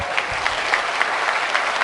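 A seminar audience breaks into dense, continuous applause, many hands clapping at once at a steady loud level with no voices standing out.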